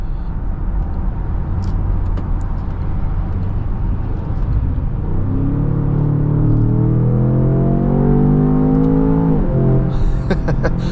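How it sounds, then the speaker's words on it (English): A 2025 Range Rover Sport SV Edition Two V8 pulls hard while driving, its low engine note rising steadily through a long acceleration run with a steady road rumble underneath and a short break near the end. "Love that sound of that low-end V8 grunt from this vehicle as well."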